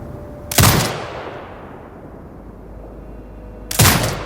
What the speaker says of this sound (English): Exit binocular mode and command the turret to fire.